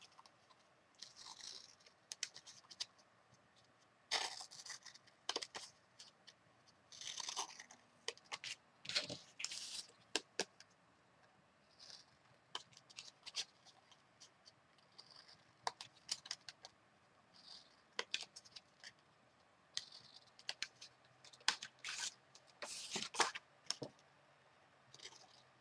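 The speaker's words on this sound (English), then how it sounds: "let me go ahead and trim all these" Paper being trimmed for an accordion mini album, a series of short crisp cutting crunches and snips in irregular bursts, close and fairly quiet with no talking.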